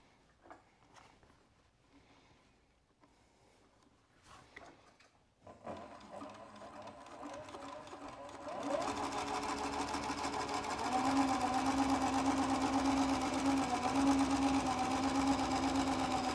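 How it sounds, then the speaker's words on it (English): Sewing machine stitching leather for a tote bag. A few quiet clicks and handling come first, then the motor whirs up and settles into a loud, steady mechanical hum that carries on continuously to the end. "All right, more sewing."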